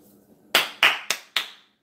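Four sharp hand claps in a quick, slightly uneven rhythm, close and crisp, imitating football coach Jason Garrett's clap, alone with no talk.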